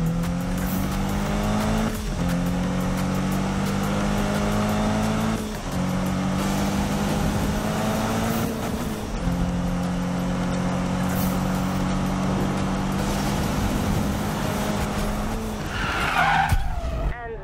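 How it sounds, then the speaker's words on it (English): Drag race cars in the Need for Speed video game roar loudly with steady engine drone through repeated gear-shift breaks, ending in a sharp tire skid squeal near the finish. "And that's your first drag race."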